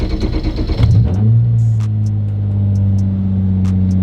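A car engine fitted with DIY polyurethane motor mounts cranks briefly, catches and settles into a steady, close idle hum that continues alone, with a few faint clicks above it.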